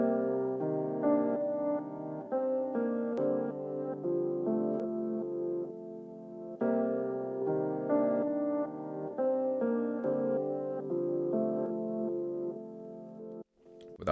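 A soft synthesized chord sample built in Ripchord swells and fades in half-bar pulses, with reversed backmask-style rises under sustained layered chords, quiet and with no voices.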